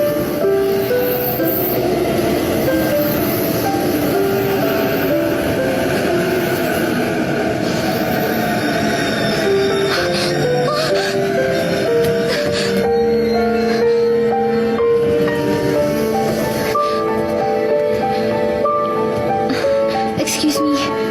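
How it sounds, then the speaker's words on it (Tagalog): A train pulls into a station with a continuous loud rumble and rolling clatter lasting throughout, with faint metallic squeals and tonal sounds layered above and voices faintly mixed in. "The next train is arriving."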